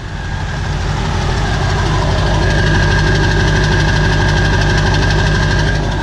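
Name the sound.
diesel pickup truck engine idling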